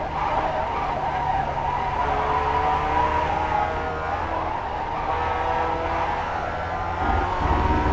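Sim racing video game race car with the tire sounds turned up: constant loud tire scrub and squeal over a steady engine drone, with pitch sweeps as the car speeds up and slows.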